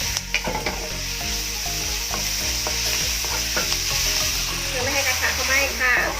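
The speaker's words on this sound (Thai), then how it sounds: "ใส่น้ำมันใส่หอมหัวใหญ่แล้วก็ใส่เบคอนลงไปค่ะ ผัดให้หอมกันเลยนะคะ" Onion and bacon sizzle and spit in hot oil for cheesy tteokbokki, with steady bright frying hiss and repeated scraping clicks of stirring close up throughout.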